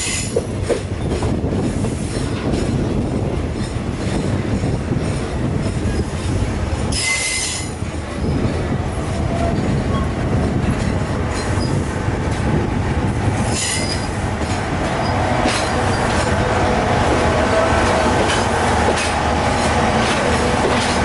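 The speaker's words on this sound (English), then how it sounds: "we are now crossing with the Rio Ekspres Selatan number 42 up from JB Central to Kemas" A Malayan railway express train made up of Indonesian-built Inka coaches passes close by, a loud continuous rumble with high wheel squeal and clickety-clack over rail joints throughout, with no talking.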